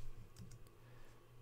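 Computer keyboard keys are tapped in a quick, irregular burst of light clicks ending with a press of Enter, faint and close with no voices.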